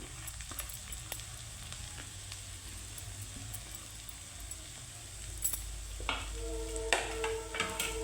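Grated carrots go into a wok with whole garam masala and fry, a faint soft sizzle that grows louder toward the end, with a few clinks and scrapes of stirring.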